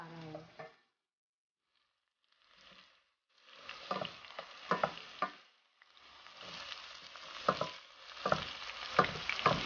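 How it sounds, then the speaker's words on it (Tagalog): Garlic, onion and tomato sautéing in a pan for a Filipino eggplant-with-shrimp-paste dish: quiet bursts of frying sizzle and stirring scrapes come in uneven waves, with short pauses between them. "Ginisa ko na po ang bawang, sibuyas at kamatis."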